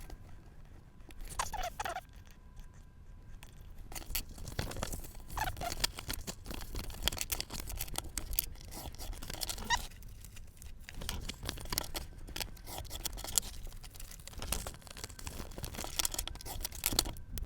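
Paper for a handmade journal is cut down the middle, giving soft, repeated crisp snips and rustling close by, steady over a long stretch without talk.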